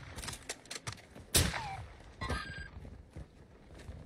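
A sniper rifle fires a single sharp, fairly close shot in a video game, followed by lighter clatter and a fainter crack against quiet background noise.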